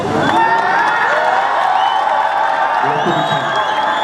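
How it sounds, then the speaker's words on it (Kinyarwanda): A large crowd at a Miss pageant claps and cheers loudly for a contestant after she finishes answering questions, steady dense applause with whoops and shouts throughout, an announcer's voice mixed in. "amashyi menshi ku mwigeme ahejeje kwishyura ibibazo"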